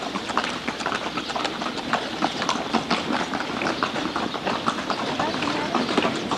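Horses pull a carriage at a steady pace on a road near Edfu, Egypt, their hooves clip-clopping in a continuous rhythm mixed with rattling wheels and busy background noise.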